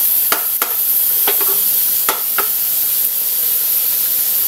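Garlic and onion sautéing in a little oil for pork liver with egg, a loud steady hiss of frying broken by several sharp spatula scrapes and clicks against the pan.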